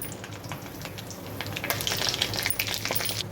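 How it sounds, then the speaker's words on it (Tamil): Mustard seeds, urad dal and curry leaves frying in hot oil for a garlic pickle, a steady crackling sizzle that builds louder with dense popping spatters in the second half, close by and without talk. "இப்போ கடுகு, உளுத்தம்பருப்பு, கருவேப்பிலை எல்லாம் போட்டுடலாம். ஃப்ரை ஆகட்டும்."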